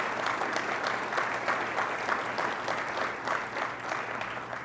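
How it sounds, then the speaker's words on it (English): A round of audience applause at the grand opening of Northeastern University's EXP research center, continuous clapping from a crowd with slight rhythmic surges and a faint hum beneath. "Please give them a round of applause here."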